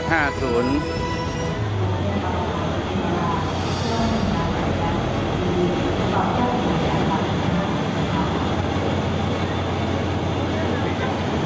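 Pacific steam locomotives numbered 824 and 850, of the JNR Class C50 type, idle at Bangkok's Hua Lamphong station, giving a loud continuous rumbling hiss and hum in a busy, echoing station hall, with some faint whistling tones at the start.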